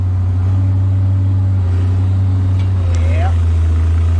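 A Kobelco excavator engine runs at three-quarter throttle, a loud, steady low droning hum close by, with a faint rising whistle near the end.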